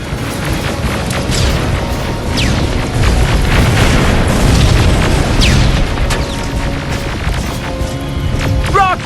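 Incoming rockets in Terminator Resistance, loud heavy explosions and rumbling booms mixed with whooshing projectiles and sharp zaps across a chaotic firefight.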